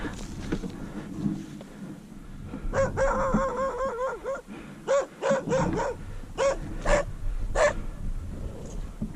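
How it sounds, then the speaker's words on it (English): A dog barks repeatedly in sharp, close bursts along a wooded ridge trail, the barks coming in irregular clusters over steady outdoor background noise. "Hey, doggy."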